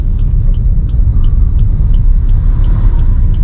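A car driving on a road, shifting down into second gear and signalling left to pull over and park, gives a steady low engine and road rumble throughout with no talking.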